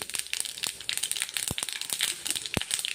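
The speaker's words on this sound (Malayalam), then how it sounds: "ഒരു ടീസ്പൂൺ കടുക് കടുക് പൊട്ടിച്ച് വരുമ്പോൾ" Dense crackling and spattering of a teaspoon of mustard seeds popping in a little hot oil, with a few sharper pops standing out, close and steady, no talking.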